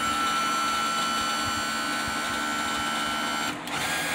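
The power trim on a 1983 Grady White Seafarer 226 outboard motor tilts the motor with a steady electric whine and hum, close and continuous, cutting out briefly near the end.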